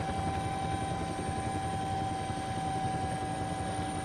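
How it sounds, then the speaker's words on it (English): A helicopter flies over the sea near a rocky island, its rotor blades thudding in a rapid, steady beat over a constant engine whine, loud and close throughout. "scared by the sound of the helicopter rotors"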